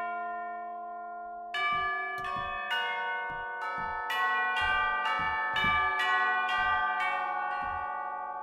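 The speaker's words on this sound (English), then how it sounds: "So normal and muted with the tuba bells." Tubular bells from the Spitfire Percussion sample library, played normal and muted: one sustained tone rings alone, then about ten bright metallic strikes follow in an uneven rhythm, each leaving a shimmering decay under the next.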